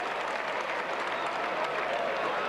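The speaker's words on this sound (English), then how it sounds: "This crowd really excited as this intriguing struggle goes on." The crowd at a 1987 Wigan v Castleford rugby league match sends up a steady wash of applause and cheering, a broad, continuous roar heard from within the stands.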